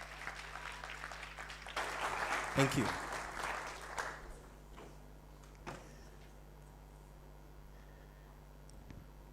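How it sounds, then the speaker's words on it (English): An audience applauds two presenting doctors from the Premier Care team at a startup pitch event, a moderate burst of clapping swelling for a couple of seconds and then fading, with a brief thank-you spoken near the start. "A round of applause to them."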